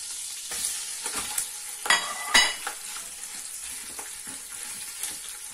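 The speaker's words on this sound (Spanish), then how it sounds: "Yo me quedo ahora sofriendo la carne." Minced meat fries in a pan for macaroni with mince and bacon: a continuous sizzle, broken by several sharp scraping stirs of a utensil across the pan, close and moderately loud. No voices.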